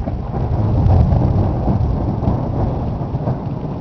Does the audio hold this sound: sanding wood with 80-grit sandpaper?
no